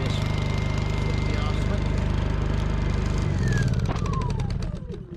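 A Honda EU2000i four-stroke inverter generator drones steadily at close range, then is switched off and its engine winds down and fades into silence at the end.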